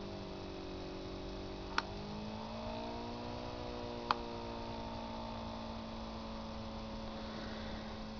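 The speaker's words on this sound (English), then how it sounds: "this switch and rev the motor up. And that goes into a little higher resonance" A homemade Bedini lid motor runs steadily, its tonal hum gliding upward as it revs to a higher resonance, with two sharp clicks along the way and no talking.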